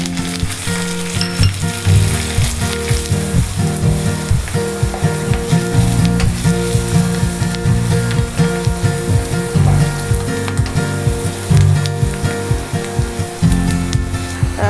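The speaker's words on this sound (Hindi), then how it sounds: "तेल पूरा गर्म है और मैं इसमें डालूंगी अब कटा हुआ लहसुन।" Chopped garlic, curry leaves and slit green chillies fry in hot oil for a paneer 65 recipe, making a loud, steady sizzle and crackle with occasional stirring scrapes. The frying continues throughout with no talking.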